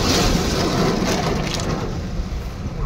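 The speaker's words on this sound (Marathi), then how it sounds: "जबरदस्त असा वॉटरफॉल आहे" A roadside waterfall at Malshej Ghat in the monsoon roars as a loud, continuous rushing wash of falling water, steady and close with no talk.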